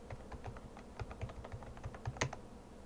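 Keystrokes on a computer keyboard entering a login password, a steady run of close, light clicks with one louder tap near the end and no talking.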